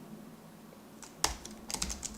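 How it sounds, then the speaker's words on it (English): Keys on a computer keyboard are pressed in short irregular bursts and clicks, close and fairly crisp over a quiet room hum, with no talking. "Then this is so long, typing 4 spaces, come on."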